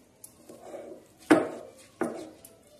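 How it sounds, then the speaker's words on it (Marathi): Chana dal chutney being ground on a stone slab (pata), with a soft scraping rub followed by two sharp knocks of stone on stone, close and fairly quiet. "हे बघा, असं मी पाट्यावर वाटत आहे।"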